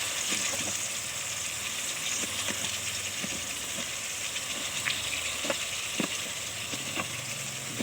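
Tomatoes for a mung bean stew sizzle steadily in a pan while being stirred, with a continuous frying hiss and occasional scraping clinks of the utensil, close up and without talk.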